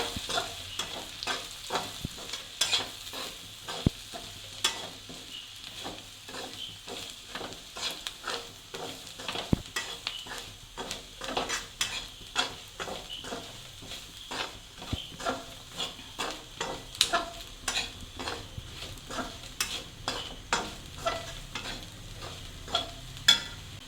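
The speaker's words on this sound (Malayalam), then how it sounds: "കുറച്ച് മീറ്റ് മസാല, ഇതെല്ലാം കൂടെ മിക്സ് ചെയ്ത് ഇളക്കണം." Clam meat fried in a pan with meat masala and chilli powder being stirred, giving dense, steady sizzling with frequent scraping clicks of the spoon against the pan throughout, close and continuous with no talking.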